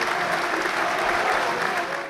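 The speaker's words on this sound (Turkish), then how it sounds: "Cumhurbaşkanı Erdoğan milletvekillerinin alkışlarıyla karşılandı." Members of parliament applaud steadily in a chamber, a dense, even wash of clapping throughout with a faint crowd murmur beneath.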